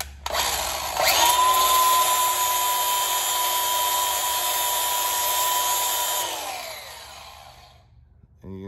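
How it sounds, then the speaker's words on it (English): A flap wheel on a power grinder works out the center of metal pipe, a steady high whine that runs for several seconds and then winds down near the end. "just take the side of the flapper wheel and just work the center of it out a little bit."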